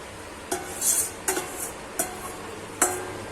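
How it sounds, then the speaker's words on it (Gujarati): Spoon stirring a besan laddu mixture of gram flour with sugar syrup in a metal pot, four or five distinct scraping clinks spaced about a second apart, close and quiet with no talk. "આ રીતના બધું મિક્સ કરી દેશું."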